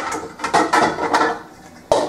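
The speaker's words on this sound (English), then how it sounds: "I got my cutting board here to go ahead and chop my onion" A knife chops an onion on a cutting board in a home kitchen, making irregular, close, hard taps and knocks against the board with brief gaps between strokes.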